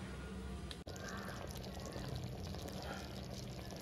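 Water boils in a cooking pot before rice is added, a steady close bubbling hiss that runs throughout, broken once by a brief dropout.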